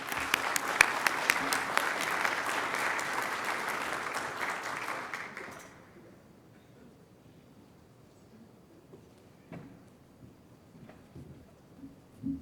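An audience applauds to welcome a speaker at a scientific lecture: dense, steady clapping for about five seconds that then dies away, leaving a quiet room with a few faint shuffles and knocks.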